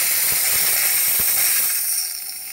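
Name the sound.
steam wand of Gaggia Classic espresso machine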